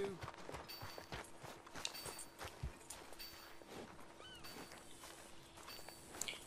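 Horse hooves clip-clop at a steady trotting pace while riding in Red Dead Redemption 2, scattered mid-distance hoof strikes mixed with game ambience and a voice talking over it.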